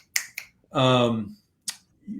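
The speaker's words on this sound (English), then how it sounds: "snap your fingers next to your ears" Fingers snapping right beside the ears, two crisp snaps, a short spoken phrase, then another sharp snap, close and distinct.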